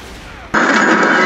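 A burst of gunfire from a film erupts suddenly after a quieter stretch, loud and dense, then sustained like rapid fire or a fusillade with no talk over it.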